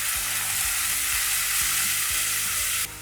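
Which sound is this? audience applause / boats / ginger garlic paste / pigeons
ginger garlic paste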